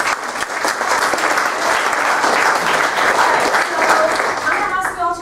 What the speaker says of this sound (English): I want to give a round of applause for all.